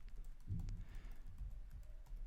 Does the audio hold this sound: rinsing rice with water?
no